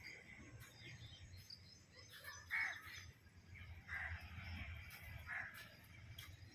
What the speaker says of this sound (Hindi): देखिए मोर आवाज़ कर रहे हैं, अलग अलग प्रकार के किस्म के पक्षियों की आवाज़